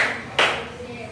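A single sharp hand clap from a clapping routine, loud and close, ringing briefly over a quiet room background.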